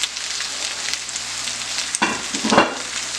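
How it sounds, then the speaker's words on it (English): Pepper steak sautéing in a pan with onions, garlic and ginger, a loud steady sizzle with stirring scrapes and a burst of crackling near the end. "let it just saute for a few minutes"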